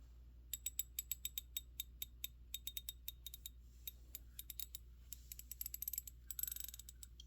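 Vintage SK Tools fine-tooth Tuff 1 ratchet with a socket fitted, turned by hand in quick runs of crisp, fine clicking, close and clear in a quiet room.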